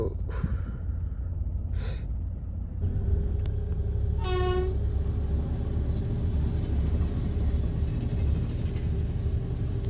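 A train runs past a closed railway level crossing with a loud, steady rumble and clatter of wagons, while two short distant toots and then one clear, longer horn blast sound over it, with no talk.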